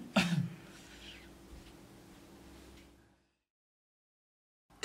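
A single short cough near the start, followed by faint background hiss and then silence.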